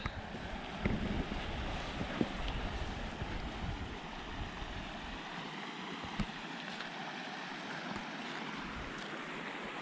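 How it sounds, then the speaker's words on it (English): Steady rushing, churning spring water bubbling up out of the ground fills the scene, a broad continuous gurgle with some gusty wind noise over it. "we have this absolutely massive amount of water bubbling up straight out of the ground"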